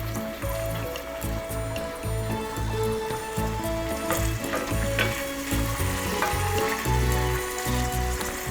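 Olive oil sizzling in a pan as the base for a garlic sauce, a steady, close frying hiss running throughout with low kitchen hum beneath.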